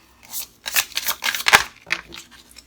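Tarot cards are laid one by one onto a table, giving a run of quick, close papery slaps and slides in uneven rhythm, with brief pauses between placements.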